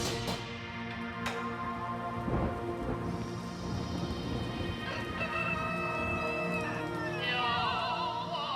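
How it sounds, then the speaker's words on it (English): Steady heavy rain pours down on the mountain village of Ma An Chang in China, a dense unbroken hiss with low rumbles of thunder beneath and no voices. "This morning, it is raining on Ma An Chang, Long Yin's village"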